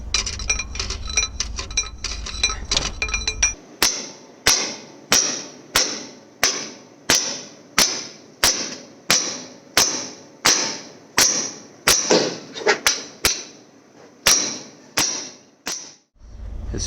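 Sharp metallic hammer blows cut through an Eaton Fuller one-piece clutch brake. About a dozen loud, evenly spaced strikes ring out close by, after a few seconds of rough, grinding noise.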